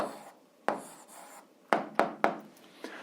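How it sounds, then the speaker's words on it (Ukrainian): A pen writes an answer by hand for an 8th-grade algebra exercise, heard close up as short, sharp scratching strokes with a quick cluster of taps in the middle and soft rubbing between them. "записуємо відповідь, пишемо відповідь"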